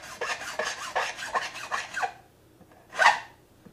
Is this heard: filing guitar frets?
yes